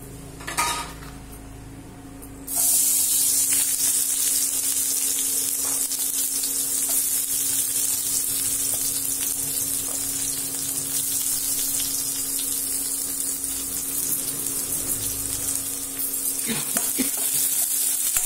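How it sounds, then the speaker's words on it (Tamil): Onions tossed into hot oil in a pan for chaalna burst into a loud, continuous sizzle after a brief clatter of cookware, then crackle steadily up close, with occasional spoon knocks against the pan. "இப்ப இதுல வெங்காயத்தை போட்டுடணும்"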